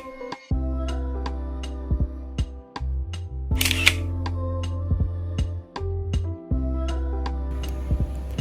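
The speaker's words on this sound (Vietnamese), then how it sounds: "bọn mình chụp được một vài tấm khá là ưng ý từ cái view phòng của bọn mình bằng chiếc GK2S" A GK2S camera shutter fires in a rapid run of sharp clicks, a dozen or more evenly spaced ticks layered over a steady low hum inside a hotel room in Sapa, with one brief louder rustle midway.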